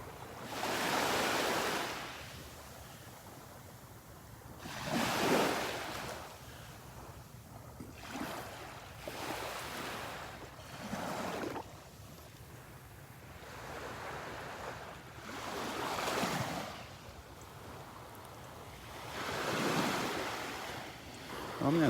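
Surf washing onto Vanderbilt Beach at dawn, with waves breaking in slow, swelling surges every few seconds, a steady wash between them and light wind rumbling across the microphone.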